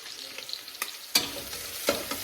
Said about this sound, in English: we're going to saute this with the onions for a couple minutes